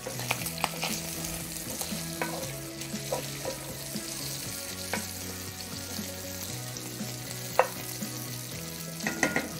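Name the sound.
bacon frying on the grill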